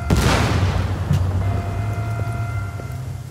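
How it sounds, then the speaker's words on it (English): An explosion in Watch Dogs 2 opens with a loud, close blast that decays into a sustained low rumble, with faint tonal ringing lingering afterward. "There's another explosion"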